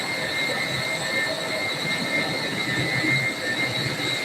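Industrial chillers run in a loud, steady roar with a constant high whine and broadband rush, unchanging throughout, heard up close with no voices.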